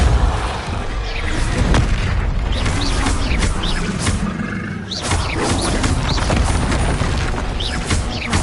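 Confringo spell explosions burst during a Hogwarts Legacy video game fight, repeated booms scattered through a continuous wash of dense combat noise.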